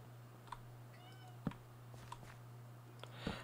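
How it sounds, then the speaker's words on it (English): Faint, distant cat meows come twice from somewhere in a quiet room over a steady low hum, mixed with scattered keyboard-like clicks. "And I hear a cat. Why do I hear a cat?"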